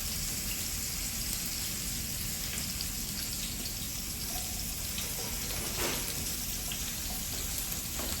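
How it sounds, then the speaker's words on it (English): Water runs steadily from a kitchen tap during handwashing, a continuous even splashing hiss that stays at one level throughout with no voices. "Let me wash my hands."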